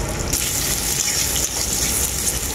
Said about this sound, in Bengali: এরপর লঙ্কা পেঁয়াজটা খুব ভালো করে ভেজে নেব আমি